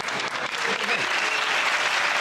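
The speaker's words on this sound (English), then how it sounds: "It's interesting to hear exactly half the audience applaud" Studio audience at a comedy panel show breaking into applause, a dense, steady wash of clapping from part of the crowd that holds at a loud, even level throughout the short burst.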